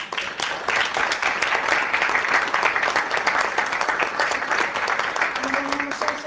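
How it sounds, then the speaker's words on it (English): A room of meeting attendees gives the group a round of applause, dense steady clapping filling the whole stretch at close range, with a faint voice briefly audible near the end. "How about a nice round of applause?"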